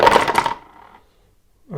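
Dice rolled in a solo tabletop session of D-Day Dice, a dense burst of clattering for about half a second that fades into quiet, followed by a brief tonal sound at the end.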